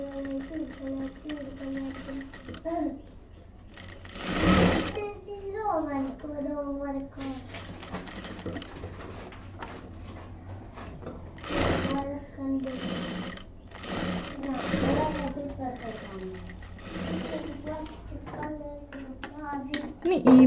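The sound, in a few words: sewing machine stitching a frock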